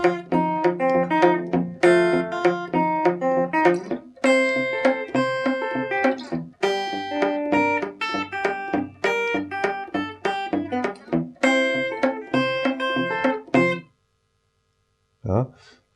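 Rockabilly guitar solo played with thumb pick and finger picking, thumb on the low strings under bright plucked treble notes, busy and rhythmic for about fourteen seconds before stopping, then one last short note.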